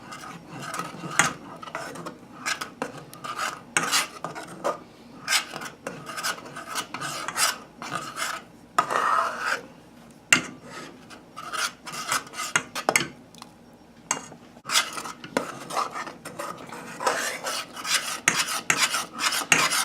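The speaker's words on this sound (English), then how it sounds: "I'm going to go ahead and give this a nice stir" Thick rice pudding, arroz con leche, being stirred in a pot over low heat, a continuous rasping scrape of spoon against the pot bottom in repeated strokes, close and fairly loud with no talking.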